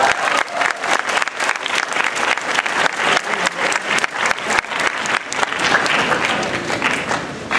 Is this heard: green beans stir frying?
no